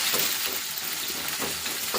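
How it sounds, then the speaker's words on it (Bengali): Onion frying in a kadai, a steady dense sizzle with faint scraping stirs running throughout, close and continuous with no talking. "পেঁয়াজটা ভাজা করে তুলে নিই।"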